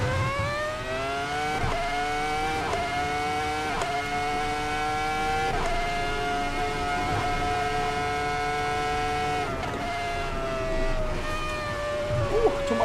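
An F1 car in a racing video game on the Nordschleife: a high, whining engine drone that rises in pitch through the gears, with shift drops at regular intervals, steady and close under faint background sound.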